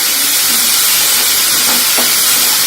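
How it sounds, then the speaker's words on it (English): Chopped onion sautéing in a pan over full flame, a loud continuous hissing sizzle with faint stirring knocks. "Since I am sauteing it continuously,"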